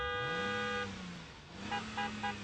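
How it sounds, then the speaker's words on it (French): A car horn sounds one long, steady honk, then several short, rhythmic toots follow after a brief dip. The blasts are close and clear against low engine rumble. "avec le coup de klaxon de la rédaction."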